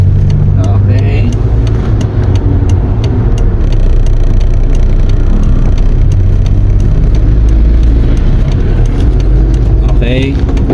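A manual transmission car's engine idles and hums steadily while the car reverses, close and constant, with people talking over it and faint clicks throughout.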